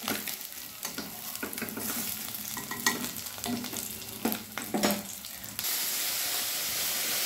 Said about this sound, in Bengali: পুঁটি মাছগুলো আমি ভেজে তুলে নিচ্ছি।